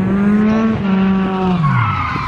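A car powered by a 2.2-liter Nissan SR engine with a wastegate drives hard, its engine note holding and then dropping while tires squeal loudly close by.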